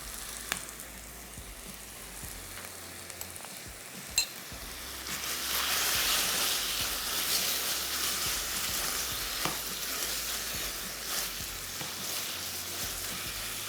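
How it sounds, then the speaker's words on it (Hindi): Thin chicken slices fry in hot honey-flavoured oil, giving a steady sizzling hiss that swells louder midway, with a few light clicks of stirring and utensil taps and no talking. "यहाँ बेसिकली चिकन को हमने शहद वाले ऑयल में पकाना है"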